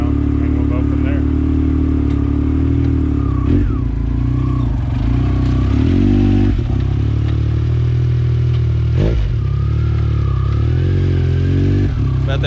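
Motorcycle engine running steadily and revving throughout while the rider does donuts in a residential driveway, loud and close with rising and falling pitch; voices talk over it.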